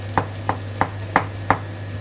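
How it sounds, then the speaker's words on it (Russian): Five crisp knife chops through zucchini on a cutting board at a steady rhythm, close by, over a faint background hum. "сейчас нарезаю себе кабачки"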